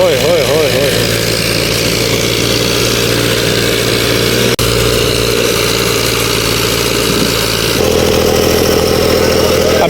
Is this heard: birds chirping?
no